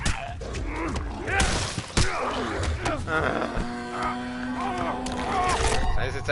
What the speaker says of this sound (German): Oh Gott, ich höre den Grunzen.